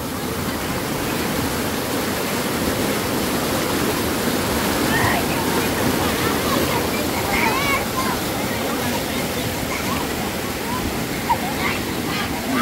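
Rushing river water roars in a steady, loud, broadband wash throughout, with faint voices barely audible beneath it.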